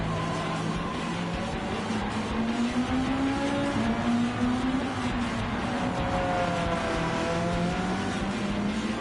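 A Gran Turismo 7 race car laps the Nordschleife, its engine droning loud and close with a steady, slowly rising and falling pitch as it holds speed, tire and road noise underneath.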